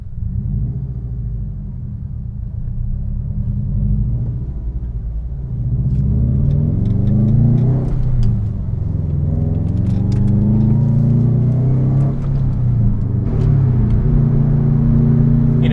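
A 2015 Subaru WRX STI Launch Edition pulls away and works through the gears, a deep engine rumble swelling and easing with each shift, steady and close from inside the car.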